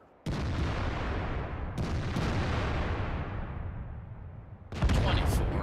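Tank cannon fire in a video game: a loud boom opens, another comes a moment later and a sharp blast closes, each trailing off in a long rumbling decay, with no talk over it.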